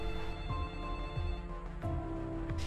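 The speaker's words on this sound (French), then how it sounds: "Son téléphone a sonné" Telephone ringtone trills steadily, a bright electronic ring loud and close, repeating in short bursts with no talk over it.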